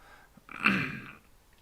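A single short throat-clearing cough, close and fairly soft, lasting under a second against quiet room tone.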